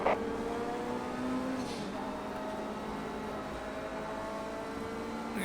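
A Nissan R89C Le Mans race car roars under hard acceleration at Le Mans in Project Cars 2, with a loud, sustained, high-revving engine drone from the cockpit that holds steady throughout.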